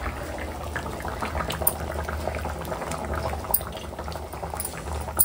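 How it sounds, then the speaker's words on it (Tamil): Tamarind kara kuzhambu curry with brinjal, drumstick and mango boiling in a pot, a steady close bubbling and popping that runs continuously with small bursts, with no talking. "குழம்பு வந்து நல்லா கொதிச்சிருச்சு"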